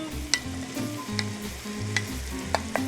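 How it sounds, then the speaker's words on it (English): Garlic, onions and celery sautéing in a soup pot, a steady soft sizzle with several sharp scrapes and clinks of a stirring utensil against the pot, no voices. "we're gonna let the onions and celery get soft"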